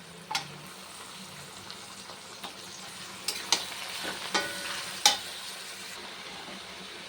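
Mutton pieces for a mutton curry sizzle and get stirred in a hot pan, a soft, steady frying hiss marked by several sharp scraping and clinking stirs.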